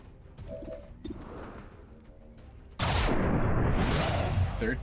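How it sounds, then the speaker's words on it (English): Shotgun blasts in the XCOM game with a Warhammer 40k Astra Militarum mod: a quieter stretch of thumps and impacts, then a sudden loud roaring boom that sustains for the rest of the moment. "Now you can move in here, shotgun him, and then shotgun the other guy"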